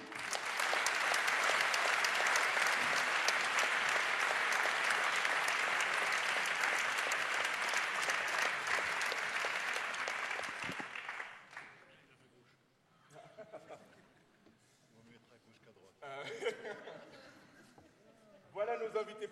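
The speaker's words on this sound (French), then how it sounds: "Je vous demande d'applaudir" An audience applauds a guest speaker, an Islam specialist, at a debate event: about ten seconds of loud, sustained clapping that fades out, followed by quieter talk.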